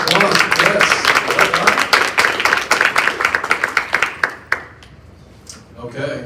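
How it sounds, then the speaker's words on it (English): A crowd at a 2025 community college pitch competition claps loudly and steadily for several seconds, the applause thinning out and fading while a voice talks over it near the end. "Round of applause, yes."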